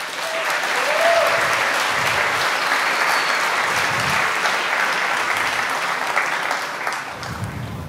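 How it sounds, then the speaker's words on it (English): Sustained applause from a tech conference audience at a developer community event opening, dense and steady for the full stretch before tapering slightly near the end. "So please, give them a one round of applause for the companies who made this event possible."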